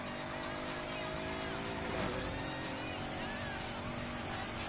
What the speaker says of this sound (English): These guys could hear my car